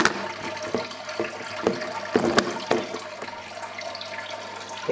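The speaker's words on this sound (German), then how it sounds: "da oben läuft es jetzt rein und läuft dann da über unseren Überlauf wieder ab." Water trickles and splashes steadily through a small kitchen aquaponics setup, flowing in at the top and draining out through an overflow, with a few louder splashy pulses along the way and no voices.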